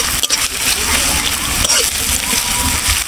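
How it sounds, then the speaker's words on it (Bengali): Chopped onions hit hot oil in a pan while making chicken momo filling, setting off a loud, steady sizzle and spatter that runs without a break for about three seconds. "বন্ধুরা, তেল গরম হয়ে গেছে, এখন আমি পেঁয়াজ কুচিগুলো দিয়ে দেব।"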